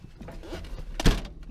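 A Datsun 280Z car door is pulled shut with a single dull thunk near the microphone, preceded by faint rustling and movement, and it does not latch.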